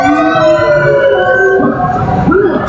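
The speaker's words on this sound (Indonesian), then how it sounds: "Ambulans lewat." An ambulance siren wails loud and close as it passes, its steady tonal cycle shifting downward toward the end as the vehicle moves on, with traffic rumble underneath.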